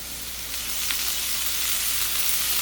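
Steady, continuous sizzling of hot oil in a pan while cooking a vegetable curry, a broad crackling hiss that holds at an even level throughout with no voices.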